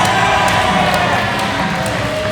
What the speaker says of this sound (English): Listen to that, the Aylesbury crowd instantly behind Jack Landers